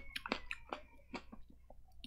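Grapes being chewed hard near the mouth, a quiet run of wet squishy bites and clicks in an irregular rhythm, with no talking.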